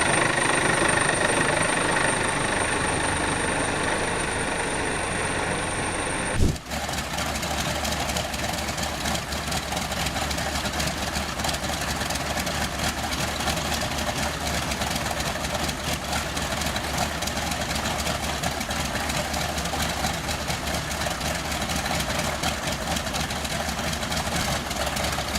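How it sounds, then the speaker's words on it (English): A Grumman TBM Avenger's massive radial engine catches with a sharp burst, then settles into a steady, loud, rumbling run with a heavy low throb that holds unbroken to the end. "A Grumman TBM Avenger fires up its massive radial engine,"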